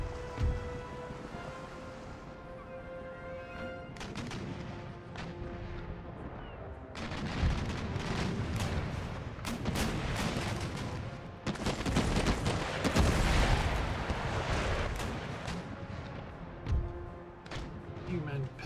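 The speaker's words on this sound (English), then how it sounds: "You may fire chain shots into masts." Ship cannons firing chain shot during an Empire: Total War naval battle, a rumbling barrage of booming shots that builds and clusters toward the middle, with a voice talking over the battle noise.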